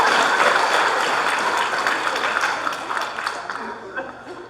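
Wedding guests clap together in a dense, continuous burst of applause that fades slightly toward the end, heard fairly close with a brief voice over it.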